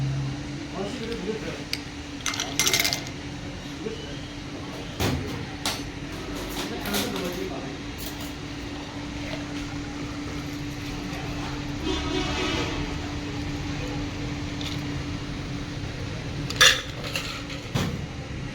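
Blue ice, colored with butterfly pea, clinks against a glass for a purple margarita: a few sharp clinks scattered over steady background noise, with people talking at times.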